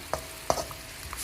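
Spice paste with small anchovy-like fish is stirred in a pan, giving a soft steady sizzle broken by a few scraping stir strokes, quiet and close.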